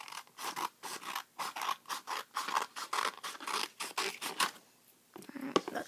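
Scissors snip through the edge of a paper box in a quick, regular run of about fifteen close, crisp cuts, then pause before a few softer rustles.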